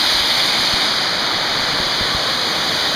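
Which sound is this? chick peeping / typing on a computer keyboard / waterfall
waterfall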